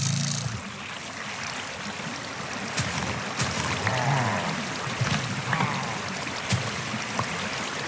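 Minecraft water flows steadily in a pillager grinder, a soft continuous trickle with scattered clicks and game noises over it.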